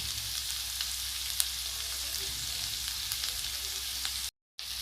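Sliced onions and peppers frying in a pan for hot dogs, a steady even sizzle throughout with a brief moment of silence near the end, no voices.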